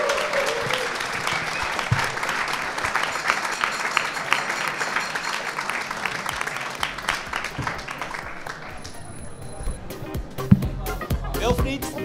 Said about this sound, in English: A big applause for you